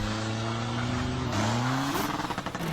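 A pickup truck driven in the GTA San Andreas video game, its engine droning steadily and then revving upward in rising pitch steps, loud and close, with no talking over it.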